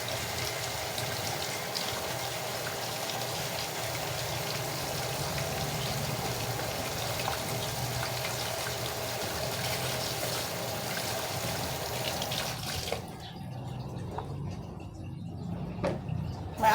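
Steady running water pours continuously as freshly harvested garden produce is washed, a constant splashing hiss that cuts off abruptly near the end, leaving quieter handling noises.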